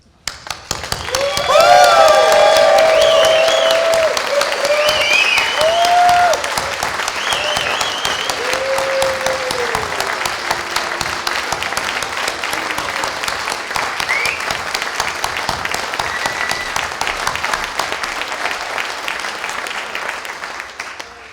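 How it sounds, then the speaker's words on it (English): A conference audience stands and claps and cheers together, loud and continuous throughout, with whoops and raised voices over the dense applause before it eases slightly but keeps going. "please stand up, clap your hands, and make a big noise"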